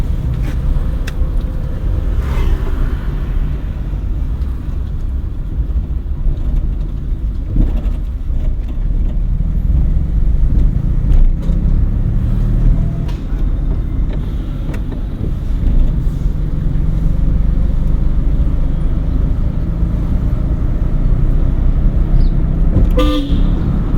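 A learner's car pulling away in traffic with a steady engine and road rumble, loud horn toots from nearby vehicles at intervals, and occasional clicks inside the cabin.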